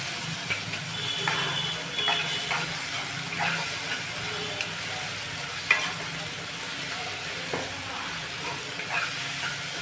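Ginger garlic paste frying with softened tomatoes for a rajma curry, a steady soft sizzle with scattered spatula scrapes and ticks, moderately quiet and without talk.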